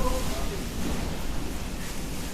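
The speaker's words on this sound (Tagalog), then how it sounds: "Umuulan ngayon sa bahay namin." Steady rain falling outside a house during a typhoon, a broad continuous wash of noise with no distinct drops, heard from indoors under a constant even hiss.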